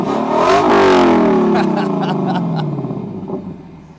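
Lexus LC 500 V8 with quad exhaust revving hard: a loud, close blip climbs sharply then falls away in a long descending wail, with crackling pops trailing off as the revs drop.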